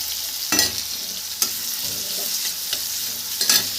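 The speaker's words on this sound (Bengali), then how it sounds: "ভাজা ভাজা মতো হয়ে গেলে এবার দিয়ে দিলাম পেঁয়াজ" Thinly sliced onions sizzle in hot oil in a pan for egg chicken rice, a constant crackling fry broken by several sharp scraping stirs of a spatula, close and loud, with no voices.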